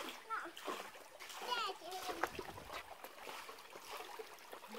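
Water is poured and splashed over a child during a bath in a rural countryside home, splattering and trickling close by while the child and an adult speak.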